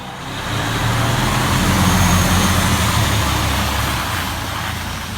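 A brand-new Pierce fire engine, number 849, runs with a loud, steady diesel drone that swells up and holds near, with no talking.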